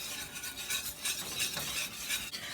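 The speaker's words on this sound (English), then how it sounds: "Going to whisk that together." A whisk scrapes and swishes repeatedly through flour and melted butter in a pan for a roux, quiet rhythmic strokes against the metal.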